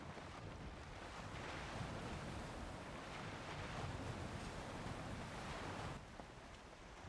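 A boat in Valheim halting on open water and splashing, heard as a steady rushing wash of waves and wind that holds for several seconds, then drops off abruptly near the end; no voices.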